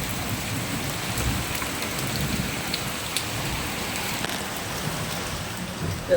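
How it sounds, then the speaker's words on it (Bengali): Heavy rain pours down steadily, a dense, loud hiss of drops hitting surfaces with a low rumble running beneath, constant throughout with no voices. "না গাইস, ভালো বৃষ্টি হচ্ছে।"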